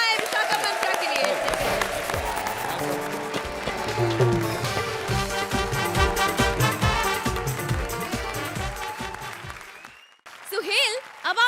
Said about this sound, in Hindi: जोरदार तालियां हो जाए विशाखा मंत्रा के लिए